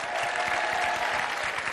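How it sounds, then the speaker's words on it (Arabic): Studio audience applauding on a Moroccan TV talk show, a steady dense clapping that fills the whole moment, close and fairly loud with no voices over it. "ايوا زيدو صفقوا"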